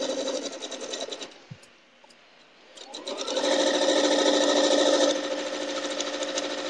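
A sewing machine stitches a log cabin quilt, starting as slow, soft stitching, dropping almost to silence, then running up to a steady, loud buzzing whir before it eases off slightly.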